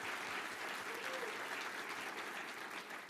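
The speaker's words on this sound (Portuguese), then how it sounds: "Dê uma forte salva de palmas para esses que ficam com a bagagem" A Baptist church congregation at a prayer meeting applauds, a dense, steady wash of many hands clapping together that fills the room for the whole stretch.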